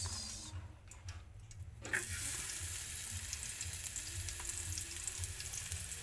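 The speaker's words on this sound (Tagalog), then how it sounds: "Igisa na lang natin. Ayan, yung sibuyas." Onions hit hot oil in a pan at a riverside campsite in Quezon, and a sudden loud frying sizzle starts about two seconds in after quiet ambient noise, then holds steady and close.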